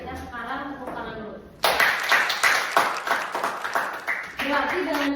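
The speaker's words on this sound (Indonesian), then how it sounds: "Berarti kita sekarang tepuk tangan dulu." A school event audience breaks into a burst of hand clapping after a host speaks, the claps loud and irregular for about three seconds before talk resumes over the tail.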